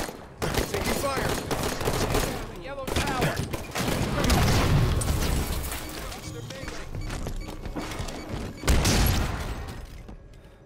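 Rocket launcher blasts and explosions in Halo 5: Guardians social arena multiplayer, heavy booming bursts and continuous gunfire filling the scene, loud and dense, with players talking over the battle.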